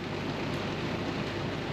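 Steady rain falls outdoors during a trip through Spain and Portugal, a dense, even hiss of drops that holds at the same level throughout with no voices.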